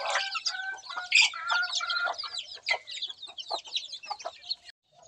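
Village chickens cluck and squawk busily while being fed, a dense overlapping chatter of short calls from several birds close by, lively throughout and fading briefly at the very end.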